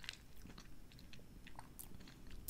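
Soft Polish gingerbread being chewed close up, quiet moist squishing and small bites without any crunch or snap, alone with no talking.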